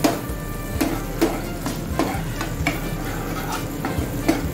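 Onion tempering in a pan for Maggi noodles, a steady sizzle of frying with repeated scraping stirs and spatula taps against the pan, close and busy throughout.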